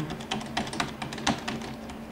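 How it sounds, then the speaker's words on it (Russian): Keys pressed on a computer keyboard while booting a Windows XP machine: a quick, uneven run of sharp, close taps and clacks with a steady low hum underneath, and no voices. "И сейчас нажимаю кнопочку Tab."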